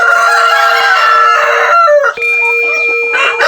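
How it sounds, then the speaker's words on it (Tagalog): A rooster crows loudly and close, a long drawn-out call followed by a second crow, with hens clucking faintly around it on a chicken farm. "Okay, yan. Ang tandang."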